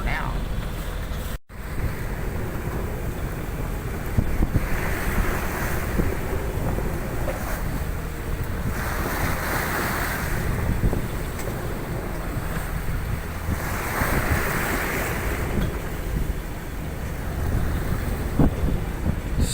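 Steady wind roar and washing sea waves surge past a boat under jib sail at sea, swelling and easing in slow repeating gusts, loud and close with heavy wind buffeting on the microphone.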